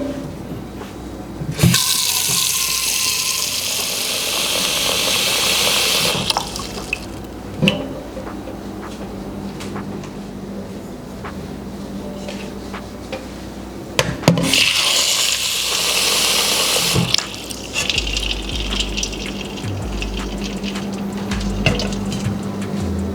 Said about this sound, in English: But I need to add water to the ice.